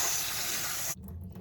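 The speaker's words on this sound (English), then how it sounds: "We want to rinse off the noodles with cold water" Cold tap water rinsing over cooked egg noodles, a strong hissing spray running steadily for about a second, then stopping sharply with faint clatter after.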